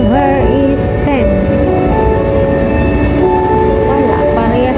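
A Taipei subway train rumbles loudly and continuously close by, with metallic wheel squeals and tonal whines rising and falling throughout, plus faint voices in the background.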